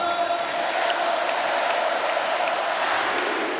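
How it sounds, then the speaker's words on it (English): A basketball arena crowd at the FIBA AmeriCup 2022 semi-final between Brazil and Canada roars loudly and steadily throughout, a dense, unbroken wall of cheering. "we're hearing the crowd in here go crazy right now"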